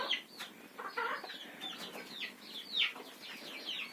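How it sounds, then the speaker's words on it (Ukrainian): Roosters and hens clucking and calling in a village farmyard, a busy run of close, overlapping clucks and squawks with a few wing flaps. "А тут і пітушки зайшли."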